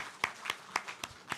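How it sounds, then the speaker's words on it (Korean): A few scattered, quiet claps welcome a guest at a church service. About five separate hand claps land in a loose, steady rhythm, sparse and soft, rather than a full round of applause. "박수 환영하겠습니다"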